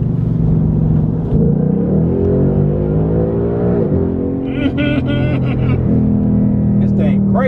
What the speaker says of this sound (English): Did you hear that engine going crazy?